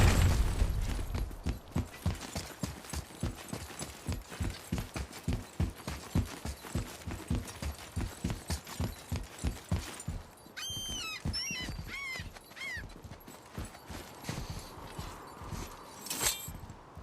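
Horse hooves clip-clopping in the game God of War, a steady even rhythm of distinct near hoof strikes for about ten seconds, followed by softer movement sounds with a few high bird-like chirps.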